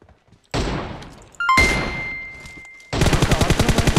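Gunfire in PUBG on the Sanhok map, with a single sharp shot near 0.5 s, another loud report at 1.5 s, then a rapid automatic burst of evenly spaced shots from about 3 s to the end, loud and close.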